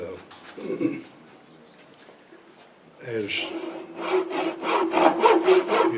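A hand saw cuts a half-inch-deep groove in wood. A person talks first, then close, rhythmic back-and-forth rasping strokes repeat steadily toward the end.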